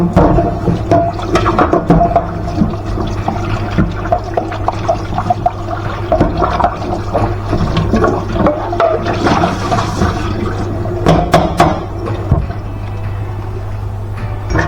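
A kitchen tap runs steadily while an item is rinsed under it during chocolate muffin baking, a continuous close splashing rush with small clatters of handling.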